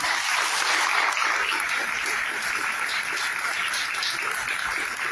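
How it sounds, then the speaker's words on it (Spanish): A seated audience at a book presentation in Culiacán claps together in a thick, continuous wash of hands, loud and even from start to finish, with no voices on top. "Les suplico que le demos un aplauso a donde esté."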